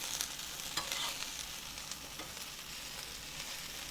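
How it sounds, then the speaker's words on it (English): Okra fries in a pan with a steady, close sizzle, and occasional stirring scrapes rise above the constant crackle. "It does take constant watching to fry okra"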